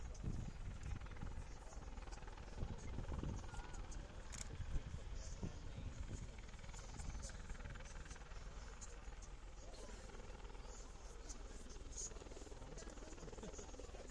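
An Apache attack helicopter of the British Army display team flying at an airshow, a low rumbling rotor drone that stays steady and fairly distant throughout, with a commentator talking over it.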